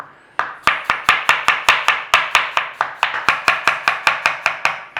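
A knife slices through onions on a cutting board in a fast, very regular rhythm, about twenty sharp, loud close chops in a row with no talking.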